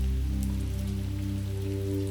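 Steady rain falling and spattering on a surface, a continuous close wash of drops with a low hum beneath, no voices.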